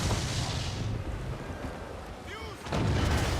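Ship cannon fire in the video game Assassin's Creed IV Black Flag, heavy booming blasts with rumbling low-end over sea and battle noise, a fresh loud burst near the end.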